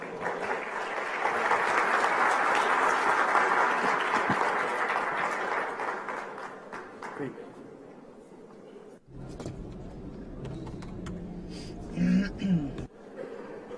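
A conference audience at a national microfinance meeting gives strong applause welcoming a keynote speaker, a dense burst of clapping lasting several seconds before fading into scattered sounds and someone speaking.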